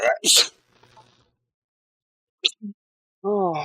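One sharp human sneeze bursts out near the start, then quiet, with a few short vocal sounds and the start of a man's speech afterward.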